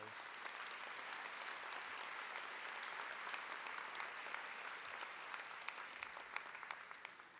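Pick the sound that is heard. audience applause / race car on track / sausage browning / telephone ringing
audience applause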